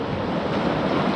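Rushing river rapids below a bamboo raft in Thailand, a steady dense roar of churning water with a faint wind-like hiss, continuous and fairly loud throughout with no voices.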